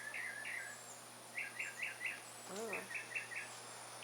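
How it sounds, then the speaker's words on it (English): A mockingbird sings in the springtime outdoors, short repeated chirping phrases in bursts, faint and a little distant, with a brief spoken exclamation partway through and a faint steady hum underneath. "It's a mockingbird."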